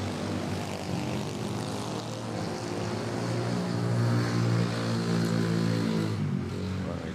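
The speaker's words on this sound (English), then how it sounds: "Malaysian Airlines lined up and rolling." Malaysia Airlines airliner at Manila Airport rolling for takeoff on runway 06, a loud sustained engine roar with steady low rumble that swells slightly midway, heard from fairly close with no talk.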